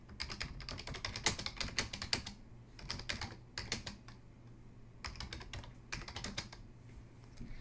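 Typing on a computer keyboard, quick bursts of close key clicks in irregular runs separated by short pauses, alone against a quiet room hum.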